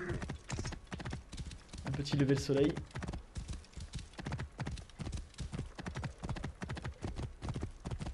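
Horse hooves gallop across desert terrain in the video game Assassin's Creed Origins, a rapid, loud, rhythmic clip-clop throughout, with a brief whinny and someone talking over it.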